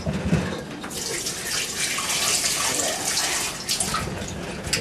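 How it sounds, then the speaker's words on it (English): Tap water runs steadily into a sink while a cucumber is rinsed, a loud, continuous splashing rush with small bursts of spatter, close up and alone without talk. "Rinse it a couple of times"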